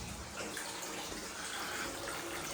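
Water gushing steadily from a bath as it empties, with waste water also spilling through the overflow, a continuous broadband rush that holds constant throughout without any talking.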